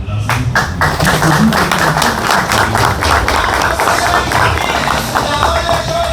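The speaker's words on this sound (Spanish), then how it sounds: "con un fuerte aplauso" Audience at a conference on Juan Bosch claps energetically, a dense burst of hand claps with a thumping, rhythmic edge, loud and close, while voices murmur faintly underneath.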